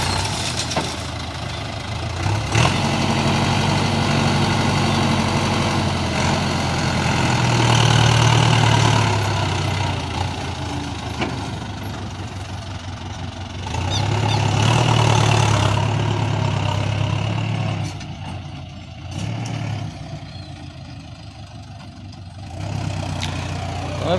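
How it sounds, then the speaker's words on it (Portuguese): A four-wheel-drive tractor engine runs while working on a farm, a loud, close, rough drone that swells twice as it is revved and then eases back down. "É porque o trator é traçado também."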